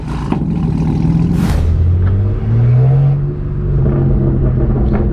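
A straight-piped BMW M8 with downpipes revs hard, its loud deep exhaust rumble rising and falling in pitch over several seconds with a brief crackle of higher noise.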